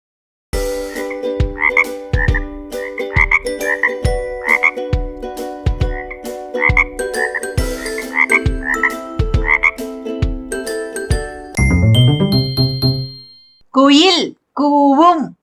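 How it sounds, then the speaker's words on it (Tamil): Loud, repeated croaking of a frog set to a steady rhythmic musical backing, followed by a few brief chimes and warbling bird-like calls near the end. "தவளை கத்தும்."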